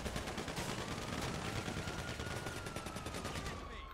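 Rapid gunfire from a GTA 5 Online match rattles on in dense, overlapping bursts for the whole stretch, loud and sustained, easing only slightly near the end.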